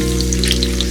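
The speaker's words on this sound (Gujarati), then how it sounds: "ઘી થોડું ગરમ થાય એટલે લસણની સ્લાઇસીસ" Garlic slices frying in hot ghee, a steady close sizzle and crackle that fills the whole moment without pause.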